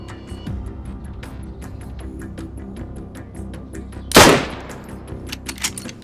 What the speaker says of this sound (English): I'm pretty sure I just hit him with that shot